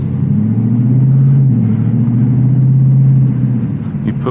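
A 2025 Ford Mustang Dark Horse with a 500 hp V8 driving in track mode, a loud steady low engine drone with shifting pitch as it pulls, heard close from inside.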